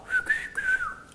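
A short, bright whistled tune with a few rising and falling notes, clear and close, with no talking.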